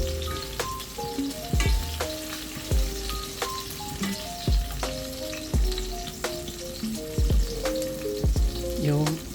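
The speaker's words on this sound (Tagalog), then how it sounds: "Medyo nag-brown na yung garlic." Garlic and chili sizzle and crackle steadily in a pan while binagoongang manok is cooked, with repeated clinks and scrapes of stirring close by.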